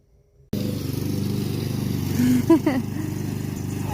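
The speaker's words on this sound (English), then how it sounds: "Bubba's teaching Bjorn how to mow the lawn" A lawn mower engine starts abruptly and drones steadily while mowing grass up a hill on a homestead, close and moderately loud, with brief voices over it.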